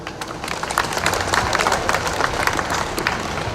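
Outdoor rally crowd in Portland applauding, a continuous patter of many hands clapping at moderate volume, even and unbroken throughout.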